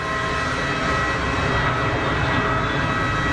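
A Gulfstream jet deploys its bucket thrust reversers on landing at Geneva Airport, producing a continuous broad roar of engine noise that holds steady and fairly loud throughout, with no voices.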